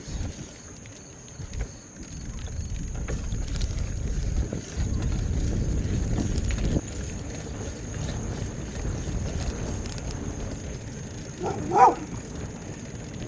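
A dog gives one sharp, fairly close bark near the end, standing out over a steady low background rumble with no talking.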